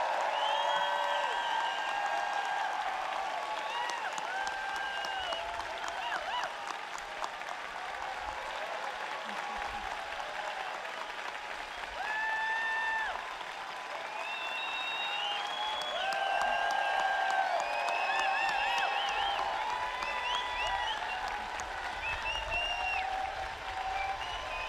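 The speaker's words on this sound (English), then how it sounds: "Let's give these guys one more big round of applause." A large audience at the Sehome High School class of 2025 graduation ceremony claps steadily for about twenty-five seconds while music with sustained tones plays over the applause.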